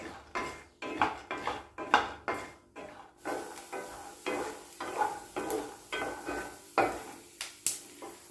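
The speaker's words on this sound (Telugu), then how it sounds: "పల్లీలు వేసుకొని దోరగా వేగే వరకు కలుపుకోవాలి" Peanuts roasting in a spoonful of oil in a hot kadai, stirred with a metal spoon that scrapes and clinks against the pan in a steady rhythm of close, sharp strokes over a soft sizzle.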